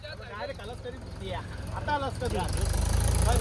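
A low, chugging tractor engine idles steadily and grows louder toward the end, with people talking over it nearby at a village Dahi Handi festival in Chindhran.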